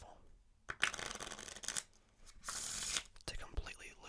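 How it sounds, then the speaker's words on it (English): A deck of playing cards is shuffled during a close-up card magic routine, giving two loud bursts of riffling and slapping, the first longer and the second shorter, followed by softer handling noises. "And a shuffle"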